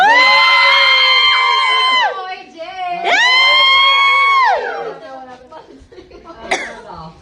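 A group of people shouts and cheers together at a Christmas Eve family gathering in two long, loud bursts, each held for over a second. Between the bursts there is a brief lull with scattered chatter, and a short whoop comes near the end.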